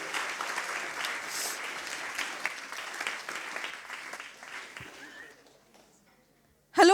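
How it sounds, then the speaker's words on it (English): A science slam audience applauds a speaker with dense, sustained clapping that gradually thins and fades to near silence, followed by a short burst of a voice at the end. "Big applause for Anushka Ghosh."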